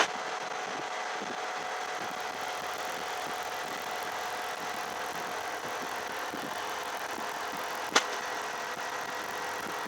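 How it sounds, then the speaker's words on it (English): A Honda off-road vehicle engine with an S&B particle separator idles with a steady droning intake hum and faint whooshing, continuous throughout, with a brief sharp click near the end. "you know about these Honda intake noises. Well, this thing has it too."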